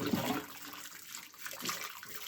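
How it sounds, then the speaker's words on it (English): Hot water pours into a clogged bathroom sink drain, a continuous close splashing and gurgling rush that stays fairly even for a couple of seconds. "So now I'm going to pour some hot water in there."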